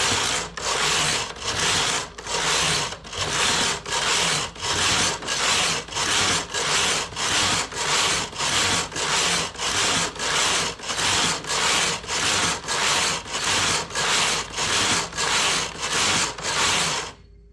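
Knitting machine carriage sliding across rows, a rhythmic series of about thirty loud, raspy swishes, each roughly half a second apart, with no talk.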